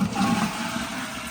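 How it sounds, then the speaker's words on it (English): A home toilet in an uncamping setup flushes with a loud, steady rush of water that swirls and drains continuously, close up with no talking. "But my toilet flushes."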